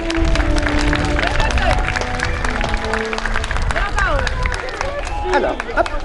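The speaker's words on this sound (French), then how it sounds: "On peut l'applaudir." An outdoor beach crowd at a magic show in Dieppe claps for a magician, with scattered hand claps, children's voices, chatter and a few cheers mixed together at close range.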